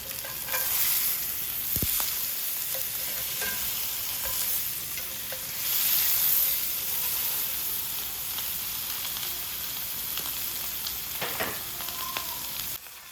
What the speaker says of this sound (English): Throw on your steak and start searing.